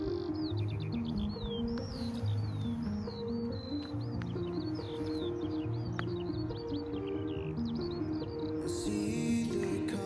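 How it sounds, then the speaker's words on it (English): Ground-nesting birds sing from a grain field in repeated short chirping phrases, clear and fairly close, over a low steady background rumble, with a brief burst of noise near the end. "The birds we are hearing is a species that is nesting on the ground in between the grain."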